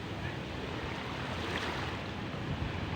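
Seashore ambience with gentle waves on calm blue water and steady wind rushing across the microphone, a continuous broad wash at moderate level with no distinct breaking surges.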